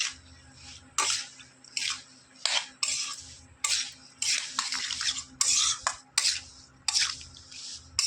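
Chopped mango pickle is mixed by hand in a bowl, heard as close, repeated scraping and squelching strokes in an uneven rhythm, with no talking.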